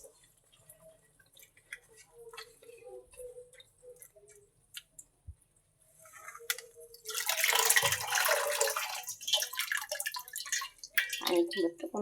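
Pumpkin and potatoes get washed by hand in water, first soft drips and splashes, then a louder stretch of running, sloshing water, with a voice talking faintly in places.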